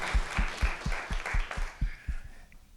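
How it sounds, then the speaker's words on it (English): An audience at a summit on workforce and economic development claps for a panel, a short burst of moderate applause with distinct rhythmic claps that fades out after a couple of seconds. "Let's give our panelists a round of applause."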